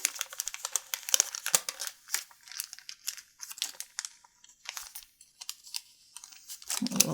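Origami paper for a Hina doll being folded and creased by hand, a run of close, quiet crinkles and soft crisp rustles in irregular bursts, with no voices.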